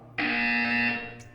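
Buzzer from the video game Portal 2: one harsh electronic buzz, loud and steady for about a second, then cut off abruptly.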